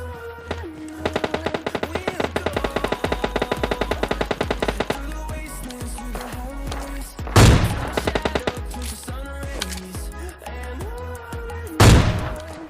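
Gunfire in the mobile shooter game PUBG Lite comes as rapid automatic bursts and a couple of loud single booming shots, heard over a steady in-game background drone.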